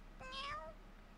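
A single cat meows once, a short rising-and-falling cry heard close and clear, with no other sounds around it.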